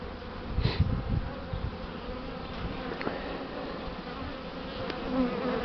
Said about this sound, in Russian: Рой крупный.